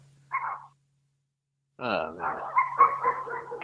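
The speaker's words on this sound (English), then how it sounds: "I'm sorry about the dogs in the background" Dogs bark and yip in the background of a call, one short burst and then a longer run of barking, while a person speaks briefly over them.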